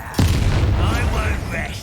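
Confringo blasting spell in Hogwarts Legacy: a sudden sharp boom followed by a rumbling blast tail, with voices talking over it.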